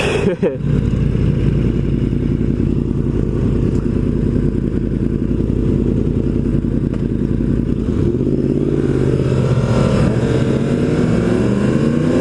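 A Yamaha R1M sport bike rides a mountain road with a steady, loud engine drone under constant wind rush, and the revs climb and sweep upward near the end.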